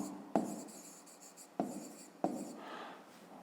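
A pen writes on paper while a fifth-grade maths exercise is worked out, giving three sharp taps as the nib lands followed by soft, close scratching strokes, with no voice.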